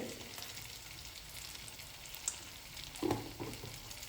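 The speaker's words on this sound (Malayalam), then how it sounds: "ആ പാനിൽ തന്നെ അതിൻ്റെ സൈഡിൽ കുറച്ച് വെളിച്ചെണ്ണ ഒഴിച്ചിട്ട് നമുക്ക് ഈ ബാക്കി മസാല ഒന്ന് ചൂടാക്കിയെടുക്കാം" Leftover masala heats in coconut oil at the side of a pan used for a coconut-roasted avoli fish fry, giving a faint, steady sizzle broken by a couple of brief clinks near the end.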